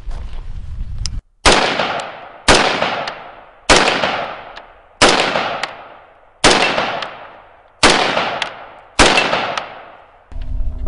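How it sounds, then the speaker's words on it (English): Rapid gunfire from a 5.45 carbine aimed at steel targets: eight sharp, loud shots in an uneven rhythm, each ringing off into a decaying metallic tail, with no talking. "We're going to just do some random shooting on all the targets"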